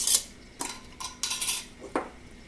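A half-teaspoon measuring scoop clinks and scrapes against spice jars and dishes, several short metallic taps spaced irregularly and close by, with no voices.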